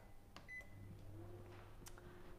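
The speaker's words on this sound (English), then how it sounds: "So let's put it now in the microwave." A microwave oven runs at low power while Florentines are being prepared, a soft steady hum with a few faint clicks and a brief beep-like tone.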